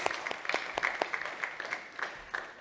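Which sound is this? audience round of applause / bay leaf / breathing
audience round of applause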